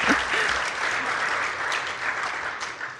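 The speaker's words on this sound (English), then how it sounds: "Let's clap for him." Audience applause at a university innovation week and industry summit, a full, continuous crowd clapping at steady volume that eases slightly toward the end.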